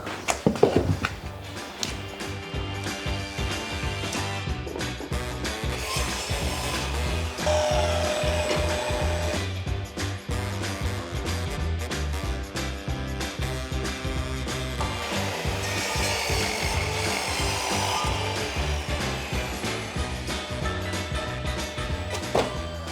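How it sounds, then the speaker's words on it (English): A saw cuts miters in wooden skirting board, with steady rhythmic back-and-forth rasping strokes up close that continue throughout with brief pauses. "the complicated thing about skirting is the miter cut"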